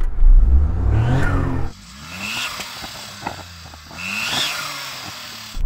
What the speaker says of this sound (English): Okay, so Daniel, go on, rev up your car.